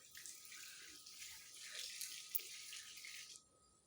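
A new backyard water gun shoots a long, steady spray of water, a continuous hissing rush lasting a few seconds before cutting off abruptly.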